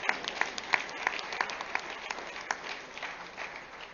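A crowd at a Georgia Senate runoff political rally claps, sharp distinct claps standing out over a thinner spread of applause that fades toward the end.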